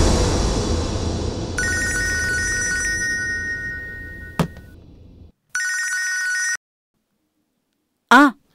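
A telephone bell rings in two loud, sustained bursts, the second after a short pause, with a brief cough-like sound between them and another short vocal sound near the end.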